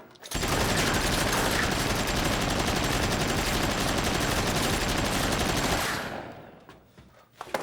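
In a crime comedy film, a long, loud burst of automatic gunfire rattles without a break for about five seconds, then cuts off into quiet.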